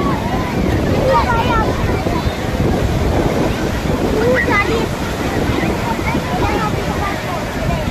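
Strong sea waves rush and surge at a seaside picnic spot at Turtle Point, a loud, constant roar of water with wind buffeting the microphone and voices heard faintly over it.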